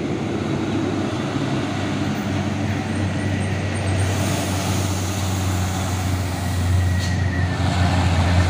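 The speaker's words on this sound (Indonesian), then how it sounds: "truk tangki CPO Hino Lohan TI." A Hino tanker truck carrying CPO rumbles past on a road, a loud, continuous low engine drone with steady road noise that swells slightly toward the end.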